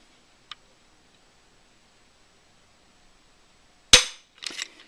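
Dry-fire trigger release on a Savage Axis rifle: a single sharp, loud metallic snap up close, followed a moment later by a softer, rattling mechanical clatter, with a tiny click earlier in otherwise quiet surroundings.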